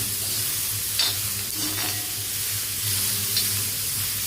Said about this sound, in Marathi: तेल घातल्याच्या नंतर आहे ना आपल्याला छान असं भाजून घ्यायचं, लाल होईपर्यंत भाजून घ्यायचं।